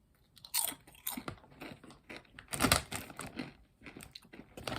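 Martin's Kettle Cook'd Jalapeño hand-cooked potato chips are bitten and chewed up close, giving sharp irregular crunches and crackles between quieter pauses, with no talking.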